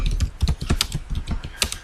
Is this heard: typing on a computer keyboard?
yes